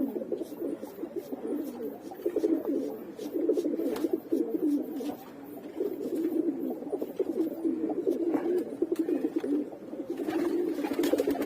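Racing pigeons coo in low, throaty bursts that repeat steadily and close by. They are newly painted young cocks entered for their first race, and faint rustling and clicks run under the calls throughout.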